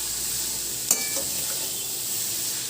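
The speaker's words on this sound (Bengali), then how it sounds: "ওপর নিচ করে চালের সাথে চাল কুমড়োটা ভালো করে মিশিয়ে দিচ্ছি।" Rice and ash gourd are stirred together in a cooking pan, a soft steady sizzle with a sharp scrape of the spoon early on and light clinks after.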